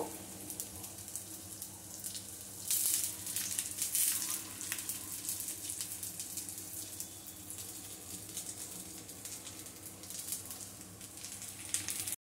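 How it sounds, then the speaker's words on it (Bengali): Chopped coconut fries in hot oil in a pan for a fish curry with mango leaves, a steady close hiss of sizzling with crackly bursts that swell and fade, no talking. "এর মধ্যে আমি নারকেল কুচি দিয়ে দিচ্ছি এই নারকেল কুচিটা আমি ভেজে নেব"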